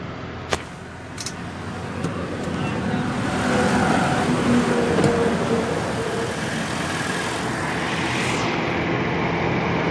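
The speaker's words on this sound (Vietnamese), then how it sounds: "Máy nổ rất là ok nha các bác nhá." A 2008 Toyota Innova with a 2.0 engine and manual gearbox idles with a steady, fairly loud broadband rumble, a couple of sharp clicks near the start and the drone swelling slightly midway.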